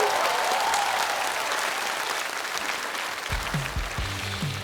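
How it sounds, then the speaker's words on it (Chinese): An audience at a Chinese-language stand-up comedy show applauds in a sustained, dense burst of clapping, with a voice speaking over it toward the end. "掌声再次送给我们来自湾区的女脱口秀演员"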